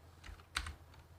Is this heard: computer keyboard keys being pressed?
yes